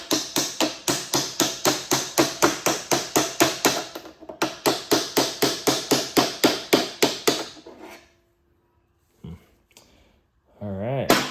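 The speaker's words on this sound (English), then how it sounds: "And I'll just tap it again and see if it pops." Repeated tapping on a part of a Blackbull air hose reel being reassembled, two long runs of fast, even, sharp taps close up, followed by quiet and brief speech.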